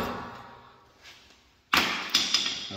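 A metal tie rod part on a Ford Bronco being hammered out during a bushing and tie rod brace installation: a sharp loud strike followed by a couple of lighter knocks, close by, after a quiet stretch.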